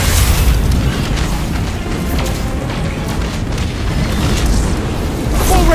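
A missile explodes in Destiny 2 during a fight against a command ship, a heavy booming roar that fills the whole stretch, loud and rumbling with no clear break.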